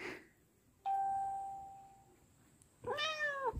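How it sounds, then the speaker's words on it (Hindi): A cat meows outdoors on a rainy-season hillside: a single harmonic meow near the end follows a sustained electronic-sounding tone, with a quiet background and no talking. "बिल्ली भी आ रही बहुत टाइम बाद"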